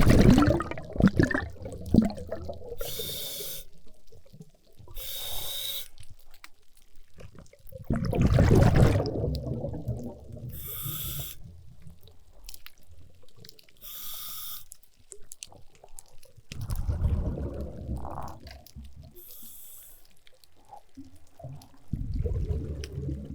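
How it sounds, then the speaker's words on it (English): Scuba diver breathing underwater on a coral reef: slow cycles of loud bubbling exhalation bursts alternating with quieter hissing inhalations, repeating several times with no talk. "This was a recording of a scuba diver's breathing in a coral reef"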